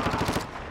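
Automatic gunfire in the online shooter Call of Duty: Modern Warfare II crackles as a rapid burst of several sharp shots in under a second, fairly loud and alone.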